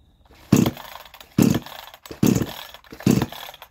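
Ported 62cc Chinese chainsaw with a tapped cylinder, starting cold on choke and settling to fast idle: four loud, close revving bursts, each about half a second long, separated by short dips.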